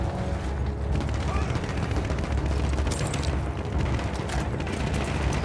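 Rapid gunfire crackles through a Battlefield 1 battle, a dense, loud stream of overlapping shots with mechanical clatter and distant booms that never lets up.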